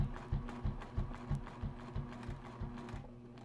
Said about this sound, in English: And I'm going to keep stitching up.